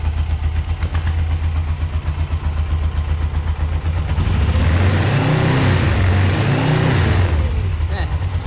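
Suzuki GS 500 motorcycle engine running steadily, then revved with rising and falling swells, close and loud.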